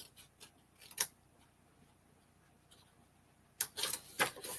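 Paper card flaps being cut off with scissors: a few soft, separate snips early on, a quiet stretch, then a louder burst of close, crisp cuts near the end, with no voices.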